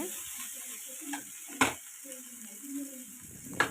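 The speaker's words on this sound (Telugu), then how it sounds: "నేను మళ్ళీ కూర ఫ్రై అవుతుందండి ఇలాగా ఇంకొంచెం అయితే కలుపుకుంటున్నాను" Bitter gourd curry stirred in a pan, with a soft sizzle and a few sharp spoon scrapes and clinks, close but fairly quiet, no talking.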